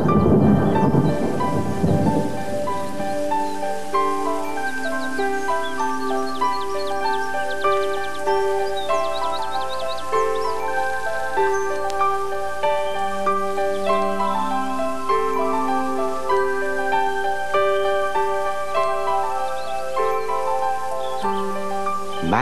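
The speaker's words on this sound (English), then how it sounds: "The magic cloud began to rain magic rain." Rain and a low thunder rumble from a magic cloud in Teletubbies open the scene, then give way to steady, bright tonal music that carries on to the end.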